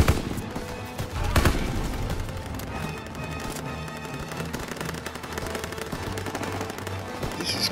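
Call of Duty: WWII battle gunfire rattles nonstop, with rapid machine-gun bursts and single shots layered into a loud, dense firefight and a sharp blast near the start.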